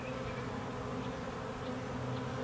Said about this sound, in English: Once a few bees go into that entrance hole, they'll all start going in.